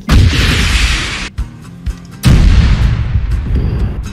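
Heavy artillery fire in Arma 3 booms loudly, with a long rumbling blast at the start, a couple of faint distant thuds in a lull, then another powerful, close detonation that rolls on and decays slowly.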